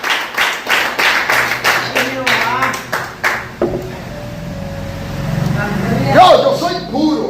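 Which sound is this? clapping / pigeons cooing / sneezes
clapping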